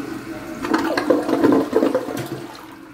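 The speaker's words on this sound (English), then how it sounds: "One flush, one regular flush." A model 2412T toilet flushes once in a regular flush, its close, steady rush of water swelling and gurgling for a few seconds before easing off, with no voices over it.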